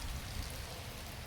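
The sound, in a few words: rain falling outside open door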